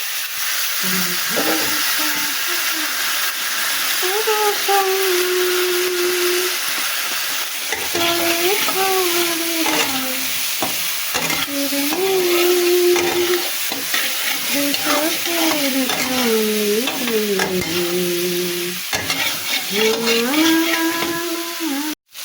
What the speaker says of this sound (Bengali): এখানে তেল দিয়েছি, কালো জিরে দিয়েছি, তারপরে বেগুন দিয়েছি, শুকনো মরিচ দিয়েছি, লবণ হলুদ দিয়েছি, পেঁয়াজ দিয়েছি,